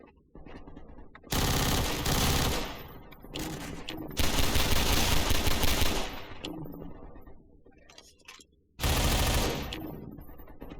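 Bursts of automatic gunfire from the video game Entropy: Zero - Uprising, three loud sustained volleys separated by quieter gaps of distant shots, with no talking.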